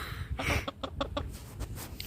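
A hen in a garden clucks in a quick run of soft, repeated pulses, close by, over a low outdoor background hum.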